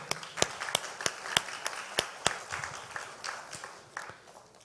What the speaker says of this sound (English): And I think they really deserve a round of applause.